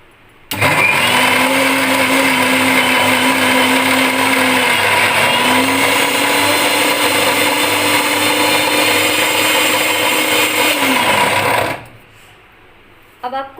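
A kitchen blender grinds peanuts into peanut butter, a loud steady motor whine that dips briefly once and then runs on before stopping abruptly, leaving near quiet with a faint clatter at the end.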